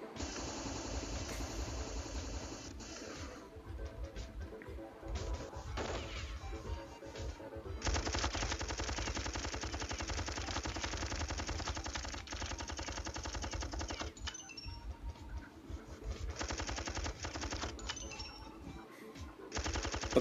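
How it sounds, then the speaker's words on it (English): Enemies in the video game Phoenix firing paired shots, a dense, continuous barrage of rapid gunfire that runs nearly unbroken and loud, with brief gaps, alongside other game sounds. "because they fire 2 shots at once"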